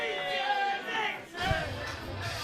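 A wrestling crowd cheers and chatters in an arena, a steady, moderately distant roar with rising shouts, running underneath a commentator's voice.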